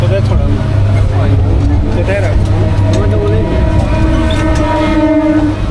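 A train in India rumbles loudly and continuously with screeching wheels and tonal squeals, while people talk over the din.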